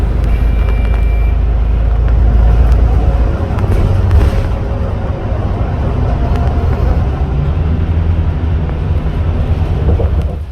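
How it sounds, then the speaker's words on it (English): A Volvo B8RLE bus with a Bustech VST body rolls along near tram tracks, its engine a steady, loud interior drone with low road rumble and faint rattles throughout, no clear speech. "as we near the tram tracks, it's time to get ready to jump off this bus"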